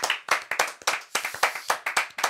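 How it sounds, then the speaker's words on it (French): Audience in a TV game show studio clapping in a crisp, rhythmic pattern, about four distinct claps per second, close and fairly loud, with no talking. "Merci beaucoup, Maître Connard, qu'on peut applaudir aussi, Maître Connard."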